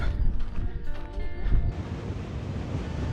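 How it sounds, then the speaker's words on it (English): Strong gusty wind roars and buffets the microphone in open air on top of Win Hill, a continuous low rumble with no voices. "Very windy."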